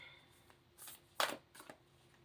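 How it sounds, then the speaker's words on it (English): Quiet close shuffling of tarot cards, a few soft riffling bursts with one sharper slap in the middle, no talking. "Need to give it a shuffle to get that energy moving"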